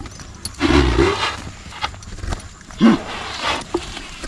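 A small bull bucks and stomps, giving heavy thuds and low snorts or grunts in short bursts against a noisy outdoor background, with faint shouts nearby.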